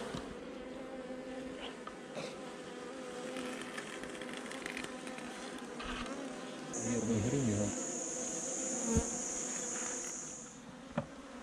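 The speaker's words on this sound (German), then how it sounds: "Langsam kamen immer mehr Bienen von alleine in den Bienenstock." A dense, steady buzz of many honeybees hums close by as a colony is relocated into a hive in Paraguay, swelling slightly midway, with faint voices in the background.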